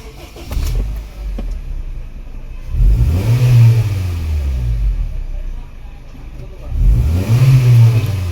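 A Honda Civic engine revving during throttle calibration: two strong rising revs that hold briefly and then drop back toward idle, loud and close, with an idle rumble in between and no clear speech.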